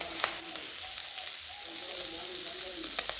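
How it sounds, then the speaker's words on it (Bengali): Shrimp frying in a pan in a home kitchen, a continuous faint crackling sizzle with occasional sharper pops, heard alone. "রান্না করতে এখন চিংড়ি ভাজছি"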